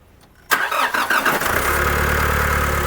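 A repaired car engine cranks briefly and catches at once, then settles into a steady, close idle with a low rumble, alone without talk.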